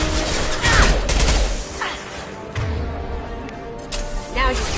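Weapon fire in the Mass Effect Legendary Edition video game, a few bursts of shots scattered through the clip over a busy background of game sound, with a voice speaking now and then.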